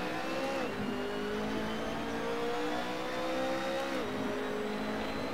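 A race car engine in Assetto Corsa revs hard and steadily, its pitch dipping at gear shifts around the start of an online race, loud and continuous with no talk.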